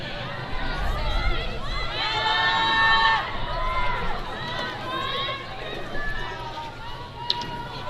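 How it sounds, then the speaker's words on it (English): A local crowd at a girls varsity lacrosse senior night game between Chaparral and Pinnacle heckles the PA announcer, with many voices shouting and jeering together in a loud, continuous din that swells midway and then eases. "Local crowd here giving this PA announcer a hard time."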